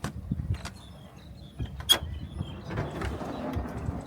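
A sliding kitchen unit rolls out from an off-road caravan with light clacks and a soft creak, a brief sharper clunk midway, over low background rumble.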